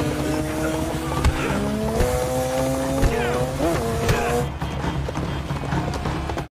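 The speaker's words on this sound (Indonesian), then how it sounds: "John yang menunggangi kuda di tengah-tengah kota, sedangkan musuhnya menggunakan moge, motor gede" A movie chase scene has a horse galloping down a city street among big motorcycles: loud engines rev and whine in rising sweeps, tires squeal, and hoofbeats clop beneath the roar until the sound drops away near the end.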